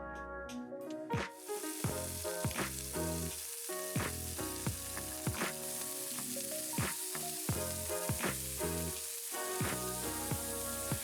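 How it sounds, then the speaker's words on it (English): Pork chops frying in a hot pan, a loud continuous sizzle close by with repeated sharp spits and crackles scattered throughout, no talking. "Heat the pan and fry the pork meat for 2 minutes on each side"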